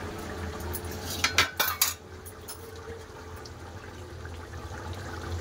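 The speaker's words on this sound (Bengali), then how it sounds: "এবার চাপা খুলে নেবো।" A metal lid comes off a cooking pot of meat and potato curry with a few quick clinks and clatters, then a quiet simmering hiss and background hum.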